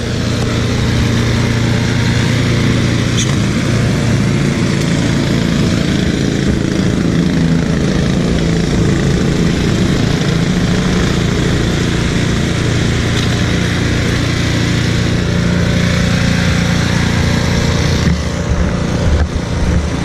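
A Honda snow blower engine runs steadily and loudly up close for the whole stretch, a constant droning roar with a rough mechanical rumble and no talking.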